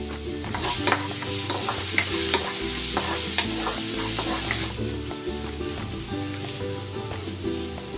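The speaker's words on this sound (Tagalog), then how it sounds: "Igigisa ko na tong bawang." Garlic sautéing in cooking oil, a loud, close, continuous sizzle with frequent scraping stirs of a spatula in the pan, no talking.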